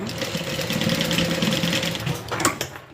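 Home sewing machine stitching across a zipper on a Colette garment: a steady, close mechanical whir with a rapid needle rhythm that runs continuously, with a brief clack near the end.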